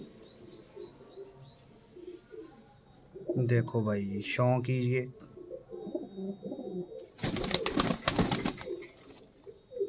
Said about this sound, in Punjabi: ਦੇਖੋ ਜੀ, ਹਰੀ ਗਰਦਨ ਕੇ ਕਬੂਤਰ ਹੈ ਜੀ